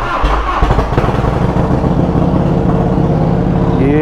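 A classic Harley motorcycle engine starts and settles at once into a loud, close, rumbling idle with steady low throbbing pulses, running alone for the few seconds heard.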